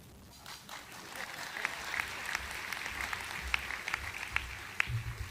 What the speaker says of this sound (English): I had to ask for a little clap.